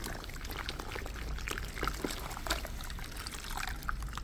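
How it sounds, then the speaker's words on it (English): A wash mitt swishes through a bucket of rinseless car wash solution, giving a continuous wet sloshing and pouring sound at moderate loudness with small splashes, close by and with no talking. "if I just swish this around in the bucket,"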